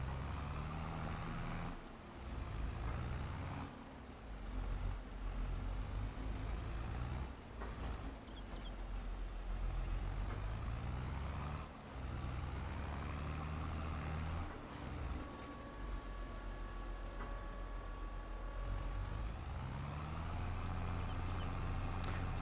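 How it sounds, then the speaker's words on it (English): A tractor engine drones steadily and continuously in Farming Simulator 22 on the Erlengrat map, a low mechanical hum with gear and load shifts changing its pitch now and then, with no talking over it. "especially considering the tractor we're running right now"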